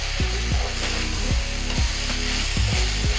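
Large mild chillies frying in hot oil in a pan for a Thiruvananthapuram sadya vada koottu curry, a steady loud sizzle broken by repeated rhythmic scraping strokes of a stirring spoon, with no talking.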